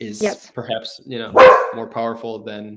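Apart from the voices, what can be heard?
dog barking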